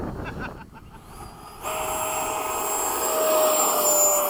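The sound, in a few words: Hawk jet aircraft taking off in cross wind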